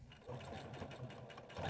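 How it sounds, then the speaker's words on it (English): A sewing machine stitches the sides of a fabric bag, making a soft, close, steady motor whir that keeps running with slight shifts in level over the short span. "simply squish your bag together and go sew your sides."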